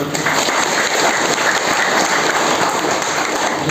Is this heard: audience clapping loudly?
yes